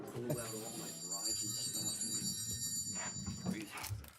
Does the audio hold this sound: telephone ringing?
yes